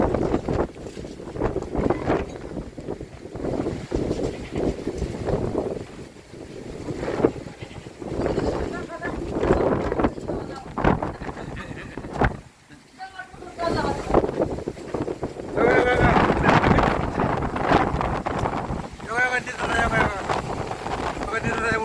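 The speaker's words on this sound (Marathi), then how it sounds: "बारामतीमध्ये वाऱ्यासह जोरदार पावसाला सुरुवात" Gusty cyclone wind in Baramati buffets the microphone in loud rushing bursts, with rain noise underneath and voices talking throughout.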